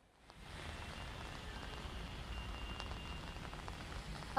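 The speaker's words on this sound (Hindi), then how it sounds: "बारिश जो है वो अभी भी थमने का नाम नहीं ले रही है।" Steady rain falling in Gurugram, a dense even hiss of drops on surfaces that continues unbroken throughout, fairly faint, with no voices.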